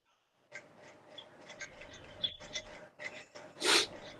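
After quiet shuffling and small rustles, a single sharp sneeze bursts out near the end, close and loud.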